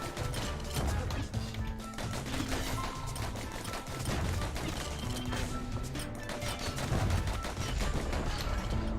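Explosions and bursts of gunfire-like blasts in the Bastion video game, dense and continuous, crashing over one another throughout at steady loudness.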